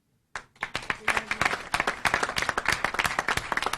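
Audience applause breaks out at a governor's pardon advisory board news conference, starting abruptly after a moment of quiet and continuing as steady, dense clapping from a room of people, fairly close and loud throughout.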